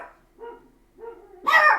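Dogs bark outside, where one dog's barking sets the others off: a few separate barks and yips from a short distance, the last one louder and harsher.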